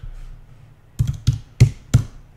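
Computer keyboard tapped in four distinct, close keystrokes spaced about a third of a second apart over a quiet low hum, with no speech.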